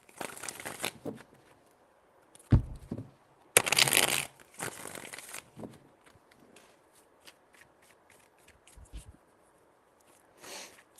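Tarot cards shuffled by hand in a few bursts of riffling and crinkling, close and moderately loud, separated by quieter handling noises.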